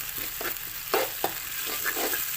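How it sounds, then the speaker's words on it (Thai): Morning glory stir-fried with canned fish and light soy sauce, a loud constant sizzle broken by quick scraping strokes of the spatula, with no voices. "แล้วก็เราก็ผัดไปนะคะผัดไปให้หอมนะคะ"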